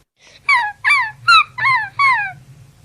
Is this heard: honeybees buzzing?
no